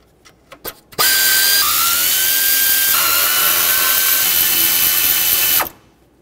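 Power tool spinning out exhaust manifold bolts on a 2007-2014 Chevrolet Silverado 2500 HD 6.0L V8, a few brief clicks followed by one sustained loud whirring run of about five seconds with a pitch shift midway, then stopping.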